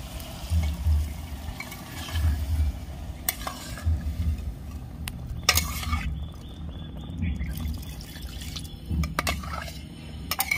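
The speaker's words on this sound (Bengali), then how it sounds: "এবার আমি পরিমাণ মতো জল দিয়ে দিচ্ছি।" Water is added to a pot of mutton and stirred, giving a continuous low sloshing with scattered clinks of a spoon against the pot, moderately loud and steady throughout.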